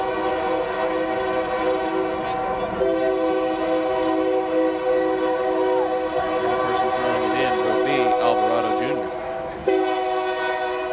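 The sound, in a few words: train horn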